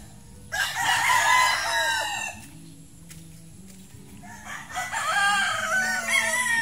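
On a gamefowl farm, a rooster crows loudly and close by in two drawn-out calls, with hens clucking and other birds calling softly in the background between them.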